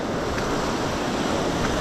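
Waves hit the shore hard at Honeymoon Island beach, giving a loud, continuous surf roar mixed with wind buffeting the microphone.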